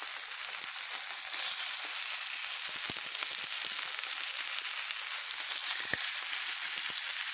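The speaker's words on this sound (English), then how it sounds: "I'm just giving it a quick sear" Raw meat searing in a hot pan for canning with bell peppers, onions and garlic in tomato juice: a steady, loud, bright sizzle with fine crackles and pops, close and continuous without talk.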